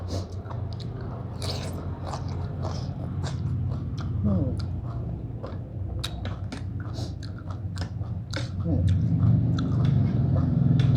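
Close-up eating of bamboo shoot curry with mixed mushrooms and water mimosa, with steady wet chewing, crunching and slurping bites in a continuous stream, while someone talks over it.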